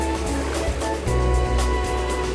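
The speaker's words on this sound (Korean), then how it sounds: "저 파도 엄청 센 거 봐봐" Powerful waves surge at Sampo beach, a loud continuous rush of surf with gusty low-frequency wind buffeting that swells midway, and no speech heard.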